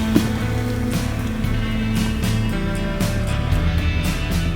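A Jeep WJ engine idles smoothly at close range, a steady low hum with faint intermittent ticking over the top.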